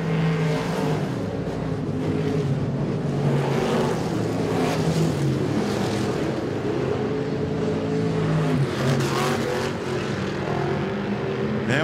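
Stock V8 race cars roaring around the oval at Modoc Raceway, a loud continuous engine drone with rising and falling revs as cars pass, no pauses, steady throughout.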